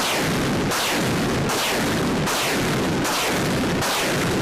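A rapid volley from a mini rocket launcher in combat, about six roaring whooshes in succession, each blast rushing away, dense and continuous with no voices.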